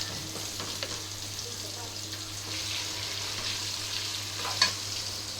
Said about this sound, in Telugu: గోల్డ్ కలర్ రాగానే ఇప్పుడు ఫిష్ వేసేసుకోవాలి.